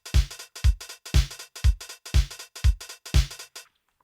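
Programmed drum beat in a DAW for modern pop, set to 66% swing, with kick, snare and hi-hat hits in a bouncy shuffled rhythm over about four seconds, crisp and up close, ending in silence.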